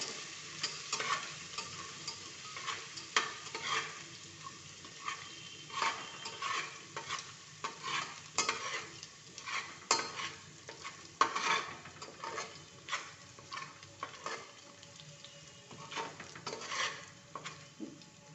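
Ground masala paste fries in hot oil for moong dal and rice khichdi, a soft continuous sizzle broken by repeated scraping stirs of a spoon against the pan, close and fairly quiet.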